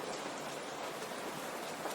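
Rain falling steadily, a soft even wash of patter on surfaces, moderately distant and continuous with no voices.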